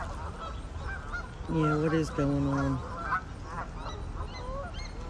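Geese honk loudly and repeatedly in a close group at a wildlife-watching spot, with a short burst of overlapping calls standing out over outdoor background noise and someone speaking briefly.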